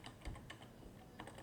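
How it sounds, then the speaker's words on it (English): Light keystrokes on a computer keyboard tap out a name in a short, quiet burst of scattered clicks, close by. "I'm typing my name here"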